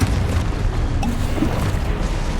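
A Confringo spell explosion in the Hogwarts Legacy video game: a loud, continuous rumbling boom that fills the whole moment without letting up.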